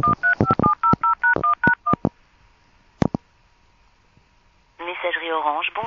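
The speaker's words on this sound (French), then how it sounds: "Je refais sonner le téléphone." A rapid run of telephone keypad tones beeps out a number, followed by a pause, a couple of clicks, and then a voice on the line.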